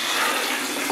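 Water runs from a bathroom tap in a steady, loud, hissing rush that continues unbroken for the whole second, with no voices.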